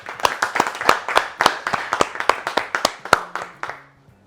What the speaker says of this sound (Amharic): ድጋሚ አጨብጭቡላቸው።